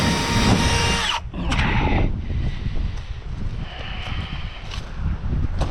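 A power drill drives a bit during a fiberglass pool installation, a loud whirring motor with brief pauses and rising and falling bursts over outdoor background noise.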